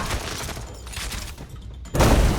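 Gunfire in the Free Fire video game, dense rapid shots forming a continuous loud fusillade with a heavier burst near the end, game effects alone without voices.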